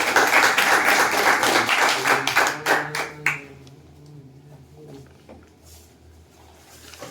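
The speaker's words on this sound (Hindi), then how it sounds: "आज के पुरस्कार जो है के जेंस का जोरदार ताली" An audience gives the award winner loud, dense clapping that starts at full strength, thins into scattered claps and dies away, leaving a quiet hall with faint background sound.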